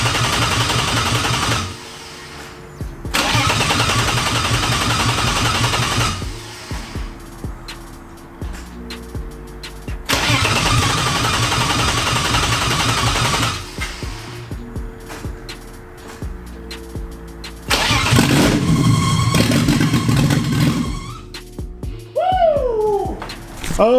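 A BMW E36 junkyard engine in a barn-find build cranks over in loud bursts, then catches and runs on its own, with a rough, uneven idle close by and revving near the end.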